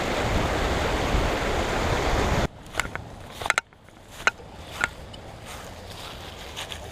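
A clear creek gives a broad, steady rush of flowing water for the first few seconds. The sound then drops to quieter trickling, broken by a few sharp splashes and clicks.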